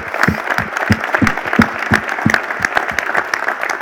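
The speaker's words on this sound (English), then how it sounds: "I just wanted to give a round of applause to the men and women here tonight, the police officers" An audience at a governor's town hall in Paramus applauds local police officers, with distinct, fairly sparse hand claps landing in quick irregular succession, close and loud throughout.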